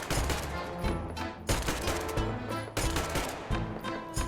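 Repeated gunfire aimed at a rat in Metro Exodus, several close, loud bursts of shots in a steady rhythm, with nothing else in the sound.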